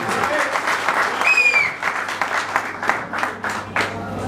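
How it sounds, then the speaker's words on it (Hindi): Audience at a live business speech in Ahmedabad breaking into loud applause, a dense burst of hand clapping that swells and then thins into scattered claps, with a voice speaking over it briefly. "एक जोरदार क्लैपिंग आप सभी लोगों की"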